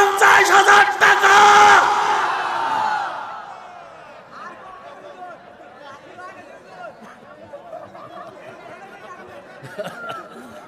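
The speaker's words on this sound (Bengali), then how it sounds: "জোরে বলেন মারহাবা, নারে তাকবীর।" A crowd at a Bengali Islamic religious gathering bursts into a loud unison shout, then the roar fades into scattered murmuring and chatter from the assembly.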